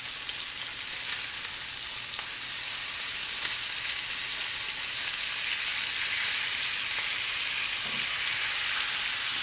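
Meat pieces cooking indoors toward medium rare sizzle loudly and steadily in a hot pan, a dense continuous hiss with only faint knocks as they are turned.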